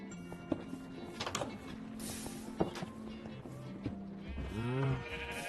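A sheep bleats in the modded Minecraft game, a wavering bleat near the end after scattered game clicks, footstep-like taps and faint tones, with no speech.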